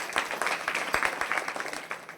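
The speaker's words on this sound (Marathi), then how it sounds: "त्यांच्यासाठी एकदा जोरदार टाळ्या वाजवा" A crowd at a devotional kirtan gathering claps for the mridangam player, a dense burst of many hands applauding briefly and fairly close.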